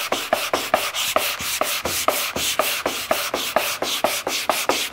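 Sandpaper rubs back and forth across the carved inside of an archtop guitar's arched wooden plate in a steady, even rhythm, about four rasping strokes per second, close and continuous.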